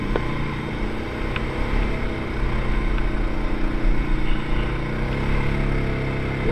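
Engines of older men's ATVs idle and rev on a dirt trail, a steady low rumble with slight surges in level and no talk.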